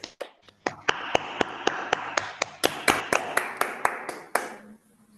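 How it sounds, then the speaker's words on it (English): Scattered, uneven hand claps from a small online seminar audience after a mathematics lecture, a handful of sharp separate claps that overlap briefly, then thin out and stop near the end. "give Emanuele a round of applause now"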